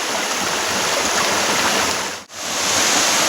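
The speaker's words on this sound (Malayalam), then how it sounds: "ഇവിടെ നല്ല അടിപൊളിയായിട്ട് വെള്ളം ഒഴുകുന്നുണ്ട് കേട്ടോ" Steady, full rush of water pouring at Adakode Chola waterfall, a dense close roar that briefly drops out for a moment before resuming.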